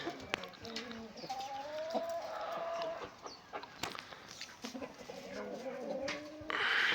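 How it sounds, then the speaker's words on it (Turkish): Chickens cluck softly at a farm with a rooster nearby, intermittent clucks and short calls over faint background noise, with a louder rustle near the end. "Horozumuzun bir tanesi bu."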